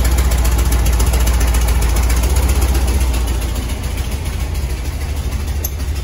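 A 1971 VW Baja engine runs steadily up close, with a continuous low rumble and metallic clattering knock throughout, no talking.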